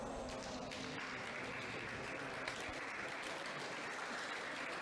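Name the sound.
uncertain clapping from the squash crowd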